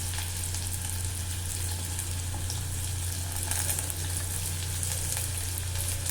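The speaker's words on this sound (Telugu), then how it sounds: "వేడైన ఆయిల్లో రెండు ఉల్లిపాయలను చాప్ చేసి వేసుకోండి మూడు పచ్చిమిరకాయలను కూడా వేసుకోండి" Chopped onions, green chillies and curry leaves sizzle steadily in hot oil for a country chicken and drumstick curry, an even close-up frying hiss with soft stirring and no talk.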